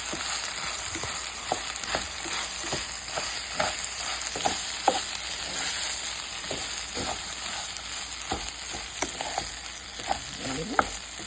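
White rice is tipped into a pan with rice already fried red, giving a quiet, continuous sizzle broken by scattered light clinks and scrapes of stirring.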